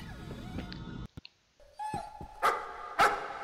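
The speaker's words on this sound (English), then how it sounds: "Doggy! Hello, puppy!" In the horror game Layers of Fear, a dog gives a few sharp barks and yips against eerie tonal game sounds, with louder bursts near the end and no voices.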